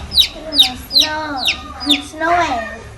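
A chicken chick cheeps close by, six sharp, high, falling peeps in a quick, even rhythm, the last one blurred and longer.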